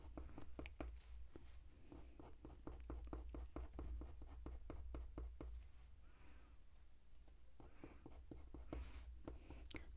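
A Derwent Drawing pencil scratches across Pastelmat paper resting directly on a desk. The close, fairly loud strokes come in quick rhythmic runs with short pauses between them, and no one speaks.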